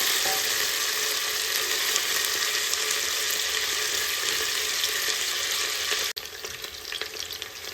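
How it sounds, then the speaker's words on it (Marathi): Potato pieces sautéing in oil in a pan over low gas for masale bhat, a steady close sizzle and hiss with faint stirring scrapes, continuous and alone with no talking. "एक 2 मिनिटं मी बटाटा चांगला परतून घेतला यामध्ये"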